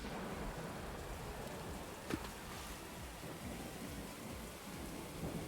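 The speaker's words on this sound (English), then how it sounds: "Lightning strike." Video-game thunderstorm: steady heavy rain hisses throughout, and a single sharp lightning crack stands out about two seconds in before the downpour carries on, with no voices.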